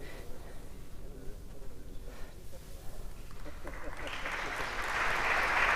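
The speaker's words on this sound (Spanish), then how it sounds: "Pero fuerte el aplauso." Conference audience at a talk on the Franciscans' arrival in Coyoacán breaking into applause, the clapping swelling and growing louder toward the end beneath a speaking voice and room murmur.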